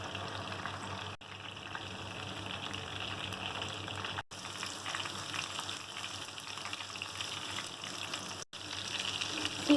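Seekh kebabs fry on their second side in hot oil, a steady close sizzle and bubbling hiss that carries on without a break apart from two brief dropouts, with no talking.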